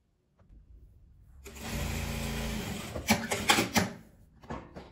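A sewing machine runs a seam closing the side of a beret with a 1 cm margin, starting after a short quiet pause, whirring steadily up close, then stitching in a few quicker bursts.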